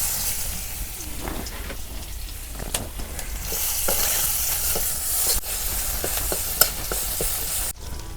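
Chopped onion frying in oil for a village-style fish curry makes a continuous crackling sizzle, broken by spatula scrapes and sharp utensil taps against the pan.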